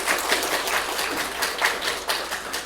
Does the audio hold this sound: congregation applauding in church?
yes